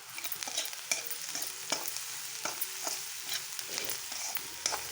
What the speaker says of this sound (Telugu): బాగా వేపుకుందాం కొంచెం బ్రౌన్ కలర్లో వచ్చే వరకు వేపుకుందాం అండి